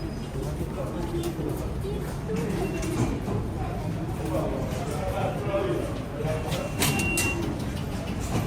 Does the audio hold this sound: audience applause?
no